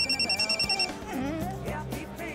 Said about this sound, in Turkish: Kapat telefonu, kapat.